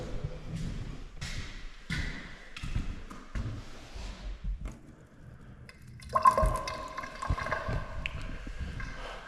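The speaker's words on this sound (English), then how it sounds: "Running water." Water pours and splashes steadily after a series of hollow thumps and knocks, with a brief quiet gap before the flow starts.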